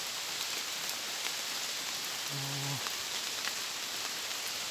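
Steady rain falls onto surfaces in a rural backwoods setting, an even, dense hiss with scattered sharper drop ticks and a short faint tonal hum partway through.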